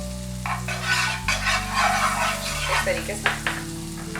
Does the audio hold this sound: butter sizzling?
yes